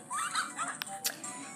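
Puppies in the Nintendogs video game yip and whimper in short, high, bright barks, a few quick cries close together over a quiet background.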